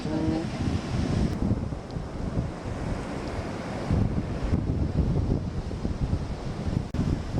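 Wind and surf on a beach in the Galapagos, a loud continuous roar of breaking waves with heavy gusts buffeting the microphone, steady throughout with no talk.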